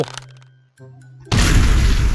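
A loud explosion goes off near a bridge in the video game Totally Accurate Battle Simulator. It bursts in suddenly after quieter game sounds and stays as a heavy, sustained roar to the end.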